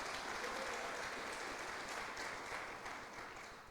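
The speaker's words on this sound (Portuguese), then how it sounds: "Dê um aplauso, Senhor, por isso." Church congregation applauding during a worship service after fourteen baptism candidates are announced, a steady, dense wash of many hands clapping that holds for several seconds, then slowly fades near the end.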